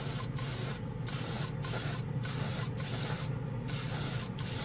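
Iwata RG-3L spray gun laying a final coat of paint on a car model or large-scale kit, in several loud close hissing passes separated by brief rhythmic gaps, with no talking.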